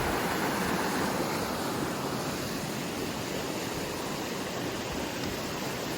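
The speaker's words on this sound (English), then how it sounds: "there's a lot of water flowing down" A swollen river near John Tait Hut, New Zealand, rushes steadily without pause, a broad even roar, with no voices.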